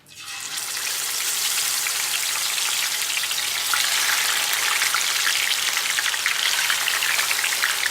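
Steady loud sizzle of chicken pieces frying in hot oil over a full flame, a dense crackling hiss that starts abruptly and continues unbroken up close.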